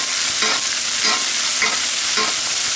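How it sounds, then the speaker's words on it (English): A ribeye steak sizzles loudly in a pan while being basted with butter, a constant bright frying hiss broken by four evenly spaced spoon scrapes and splashes, with no talking. "we're just going to start, like we were before, basting that steak, getting all those flavors incorporated in that beautiful steak"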